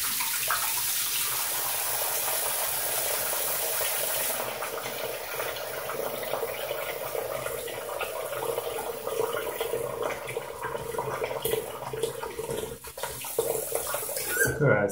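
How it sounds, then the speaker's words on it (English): Tap water pours steadily into a bathroom sink for a shave, a continuous rushing and splashing that stays fairly loud and close from start to finish. "just gonna fill the sink."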